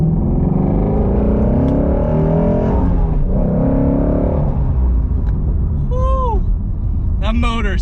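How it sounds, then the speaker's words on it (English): A 2017 Ford Mustang GT350 V8 engine revs hard and rumbles under heavy acceleration from inside the car, with pitch climbing and dropping through the gears as a person talks over it. "That motor sounds amazing. You really can't beat the sound."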